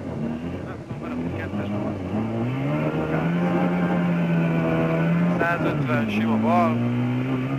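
A Trabant 601 rally car racing a stage at the WALD4TEL Rallye, its two-stroke engine buzzing loud from inside the cabin, revs climbing, dropping and rising again through shifts while a co-driver calls pace notes over it.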